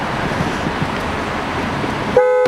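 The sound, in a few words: Renault Clio car horn going off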